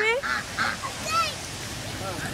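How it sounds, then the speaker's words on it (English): Geese or ducks that follow a family around, waiting to be fed, give several loud honks close by in quick succession, with faint background noise between the calls. "Are you guys scared of the ducks?"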